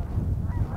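Geese honking during an Alberta goose hunt, a short flurry of overlapping honks from several birds close by over outdoor background noise.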